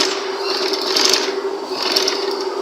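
A sewing machine runs steadily while stitching a round neckline on the front panel of a shirt, a continuous close-up mechanical whir with faint ticking, heard alone.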